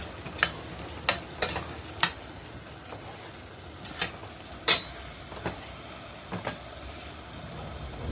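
Okra stew with meat stirred in a pot: a soft, steady bubbling simmer with scattered sharp clinks of a spoon against the pot, a handful of irregular taps over the low hiss.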